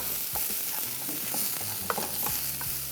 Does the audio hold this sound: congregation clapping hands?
no